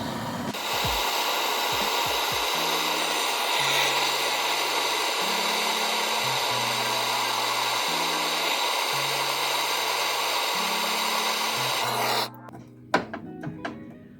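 A torch roars steadily for about twelve seconds while heating a stuck part near the fuel line under a 1967 Volvo Amazon 122S, then cuts off, followed by a few sharp metallic knocks.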